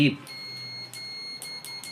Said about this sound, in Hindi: देखिए बीप की आवाज़ आ रही है।